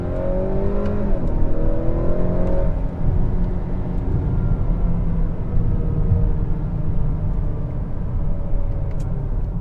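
A 2021 Honda Accord 2.0T Touring accelerates hard on dry pavement: engine tones climb through the rev range for the first couple of seconds, then a loud, steady engine drone and road roar carry on to the end.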